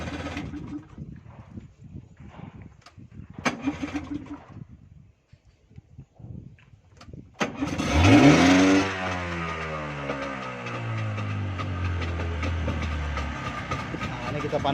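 Someone speaks briefly, then a boat engine cranks and catches, roaring up before settling into a steady, loud running rumble.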